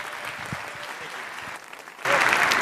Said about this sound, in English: Please welcome, with a very, very warm applause, Tim and Parker.